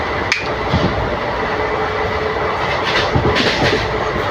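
A passenger train on the way to Guwahati rolls steadily along the rails, heard from inside as a constant loud rumble with clickety-clack wheel beats.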